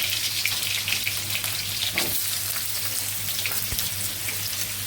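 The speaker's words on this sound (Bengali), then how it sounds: "তেল দিয়ে দিচ্ছি চুলায় আলুগুলো ভেজে নিচ্ছি" Potatoes fry in hot oil in a pan on a stove, giving a loud, dense, steady sizzle that continues without a break and without any talking.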